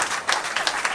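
Audience applause at an owners' gathering for the Ducati 916 and designer Massimo Tamburini, a dense, steady patter of many hands clapping with no talk.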